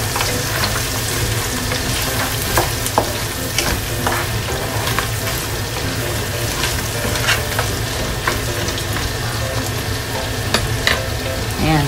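Crab sizzles and is stirred in a pan for garlic butter seafood: a loud, constant frying hiss with scattered clicks and scrapes of the utensil, no talking.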